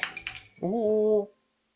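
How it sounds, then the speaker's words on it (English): Steel woodworking chisels drop onto a workshop floor with a quick run of sharp metallic clatters and clinks. A sustained voiced tone follows and then fades to silence. "That's how you ruin chisels, man. Dropping them on the floor."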